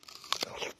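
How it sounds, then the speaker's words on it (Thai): A crisp, close crunch as teeth bite into a fresh Chinese jujube fruit, with a couple of quick crackling snaps in under a second. "เราจะคุยเรื่องทุเรียนไม่คุยแล้วกินกินพุทราปากไม่ว่าง"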